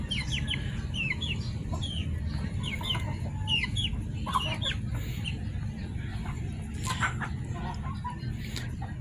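Backyard chickens clucking in a coop at feeding time, repeated short chirpy clucks from several birds over a steady background hum, fairly close and continuous.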